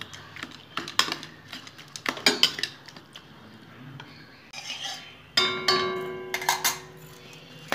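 Bean and tomato mixture being mashed by hand in a metal dish, giving irregular clinks, scrapes and soft squelches in close bursts, with a louder run of ringing metallic contact near the end.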